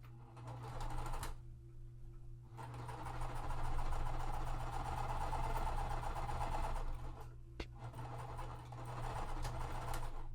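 A sewing machine chain-stitches quilt pieces for a Wild West puzzle mystery quilt. The fairly quiet, steady motor whir runs nearly continuously, stopping briefly near the start and once more later.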